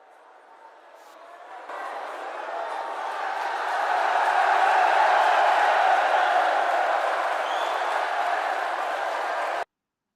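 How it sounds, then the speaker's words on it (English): A large crowd cheering as a sound effect, starting softly and swelling into a loud sustained roar of voices and whoops that holds steady before cutting off abruptly. "That's everybody cheering for all of the emails that we have been sending"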